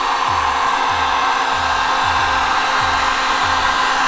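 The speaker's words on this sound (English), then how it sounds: "Any reason why you prefer to use a heat gun over like an oven or something like that?" A heat gun blows hot air steadily over a Tesla headlight lens, a loud continuous whooshing roar with a faint rhythmic low thump pulsing beneath it.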